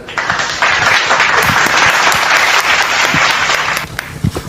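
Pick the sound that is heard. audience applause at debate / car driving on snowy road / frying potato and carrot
audience applause at debate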